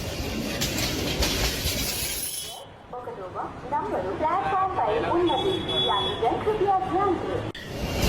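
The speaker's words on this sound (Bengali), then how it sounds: "প্ল্যাটফর্মে একটু অপেক্ষা করতেই ট্রেন চলে আসলো" A cartoon train pulls into a station platform with a broad, rushing rumble that fills the first couple of seconds, then a voice talks over quieter background noise.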